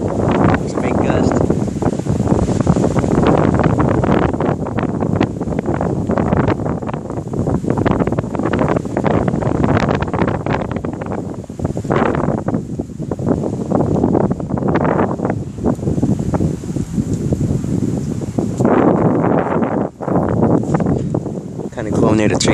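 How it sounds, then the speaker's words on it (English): Strong thunderstorm wind gusts roar continuously in Corpus Christi, Texas, a loud, dense rush through nearby trees that buffets the microphone and dips only briefly near the end. "It's a big gust."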